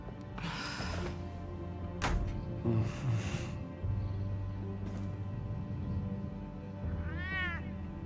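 A house cat meows several times in drawn-out complaining calls, with one rising and falling wail near the end, close by against a low steady indoor hum and no speech.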